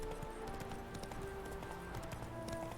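Horse hooves clip-clop at a steady trot in a video game, continuous and fairly faint, with game ambience and soft tonal sounds around them.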